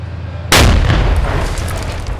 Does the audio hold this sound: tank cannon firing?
yes